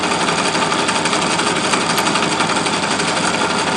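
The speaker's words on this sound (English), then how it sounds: "Really rattles when you let it get close to that charging coil. You can really hear it hitting." A pulse motor's rotor rattles hard against the nearby charging coil, a loud, dense, continuous buzzing clatter that holds steady throughout with no voices.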